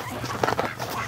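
A Muscovy duck, dirty and nicknamed Mrs. Gimp, gives a short soft burst of low clucking calls on an outdoor duck patio, close and moderately quiet, lasting about a second.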